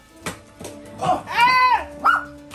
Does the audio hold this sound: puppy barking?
yes